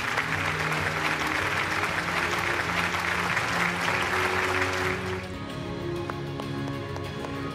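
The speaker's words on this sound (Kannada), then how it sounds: "ಬಲಿ ಚಪ್ಪಾಳೆ" Audience at the Chittara Star Awards 2024 ceremony applauds the Best Editor award with loud, dense clapping for about five seconds, then it thins out beneath music.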